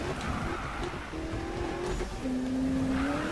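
A car drifting in the Need for Speed 2016 video game, engine revving with squealing tires sliding in long pitched streaks, moderately quiet and steady.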